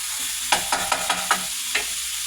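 Ground beef casserole cooking in a pan, with a steady soft sizzle broken by several sharp scraping stirs, each a short distinct clack, all fairly close and alone without voices.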